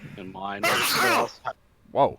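One loud, explosive sneeze bursts from a player at a tabletop role-playing session, cutting in between spoken words, followed by brief exclamations.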